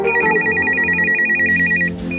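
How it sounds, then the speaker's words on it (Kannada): A telephone bell rings in a repeating electronic pattern for about two seconds, loud and close, with no talking over it, cutting off near the end. "ಫೋನು."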